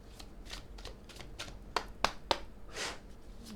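Tarot cards being shuffled and drawn by hand during a Michael card reading: a quiet run of soft papery riffles and slides with three sharper flicks as cards are laid down, close and alone.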